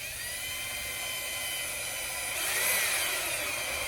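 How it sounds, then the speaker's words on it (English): A high-pitched power drill whines steadily, then bites into a plastic rivet on a Jeep Gladiator fender liner and grows louder and rougher for the last second or so. "Drill it out."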